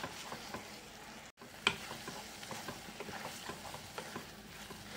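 Sesame seeds frying in a pan for a kawoi fish curry, a soft continuous sizzle broken by scraping stirs and small ticks, fairly close and quiet, with no talking.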